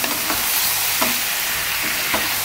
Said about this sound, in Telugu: వంకాయలు ఇలా మీడియం ఫ్లేమ్లో పెట్టి మధ్య మధ్యలో కలుపుతూ ఉండాలి